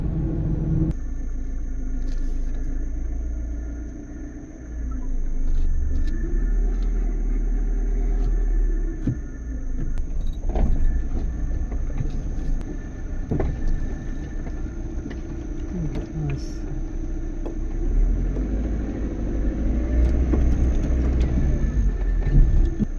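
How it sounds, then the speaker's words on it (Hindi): A car engine rumbles low and steady on a night ride through forest near Nawegaon, a continuous close drone with occasional bumps and rattles from the vehicle. "अभी वहां से पलटा रही गाड़ी"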